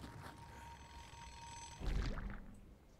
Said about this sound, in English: It's like an alarm sound, so it's like the brrr.